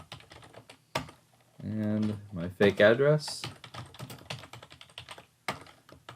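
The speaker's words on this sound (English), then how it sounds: "And then I'm typing." Typing on a computer keyboard, quiet rapid key clicks running through the clip beneath a voice talking, with a brief pause in the middle.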